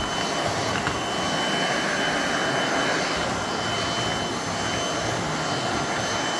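A vacuum cleaner runs on hardwood floors with a loud, steady roaring whoosh that holds unchanged throughout, close to the listener, with no talking.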